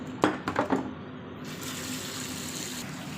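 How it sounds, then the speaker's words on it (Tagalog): Tap water runs steadily into a sink while boiled meat is rinsed, preceded by a few sharp splashes and clatters as the pieces are handled. "Ayan, hugasan natin ang ating karne mabuti."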